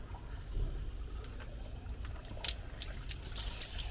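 Water runs from the hot outlet of a Vaillant EcoTec Pro 28 combi boiler that has a slow-flow, cold-hot-water fault. It makes a steady, close trickle with scattered drips and splashes, and no one speaks.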